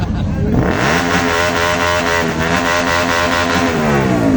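A car exhaust roars loudly and steadily as the engine is held at high revs in a loudness contest, a dense, blowing rumble close up, with a voice faintly underneath.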